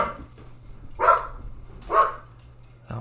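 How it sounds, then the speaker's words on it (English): A dog barks twice, spaced about a second apart, each bark fairly loud and clear against a low steady hum, with the start of a third bark at the very end. "Oh, why is my dog barking now?"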